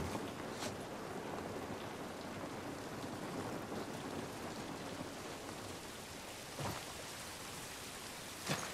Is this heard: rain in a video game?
yes